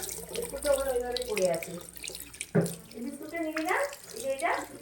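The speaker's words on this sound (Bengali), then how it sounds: "হাতটা ধুয়ে নিই" Hands being washed under a running tap at a home sink, a steady splash of water throughout with a louder gush midway, while someone talks over it.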